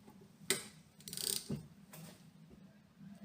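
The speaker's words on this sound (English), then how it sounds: "Can we not just use the socket?" A socket wrench ratchet loosening a small nut on a Morris Minor dynamo gives bursts of close, crisp clicking, with one sharp click and a longer rapid run of ratcheting, then brief pauses.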